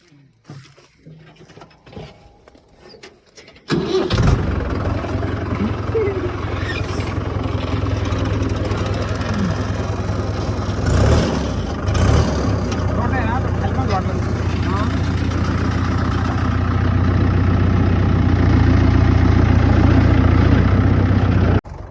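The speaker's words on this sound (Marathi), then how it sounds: "ट्रॅक्टर चाललंय तिकडं" A quiet start, then a tractor's diesel engine starts up and runs at a steady low idle, loud and close for the rest.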